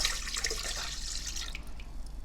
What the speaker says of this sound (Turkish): Yoğurma kabımızın içerisine önce ılık suyumuzu